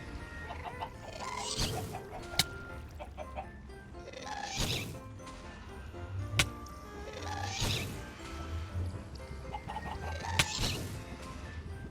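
Chickens clucking inside a Minecraft farm, their game-sound clucks and squawks popping up in short bursts every few seconds over a steady background of game ambience, with no speech.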